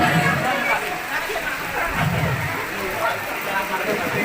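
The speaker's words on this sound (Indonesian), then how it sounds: "Nggak usah khawatir hujan" Steady rain falls throughout an outdoor alumni reunion gathering in a village, a dense even hiss close by, with a voice speaking over it.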